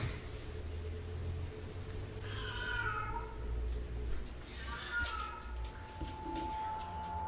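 A cat meows twice, clearly and fairly close, over a steady low background hum.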